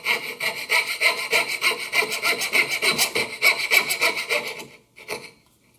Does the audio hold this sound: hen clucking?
no